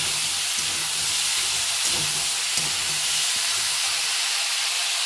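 Food seasoned with salt fries in a pan, giving a loud, continuous hiss that stays even from start to finish, with no talk.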